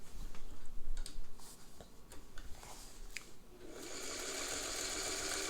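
Singer 301A sewing machine sewing short stitches, with light irregular ticks and clicks at first, then the motor running into a steady close whirring hum for the last couple of seconds.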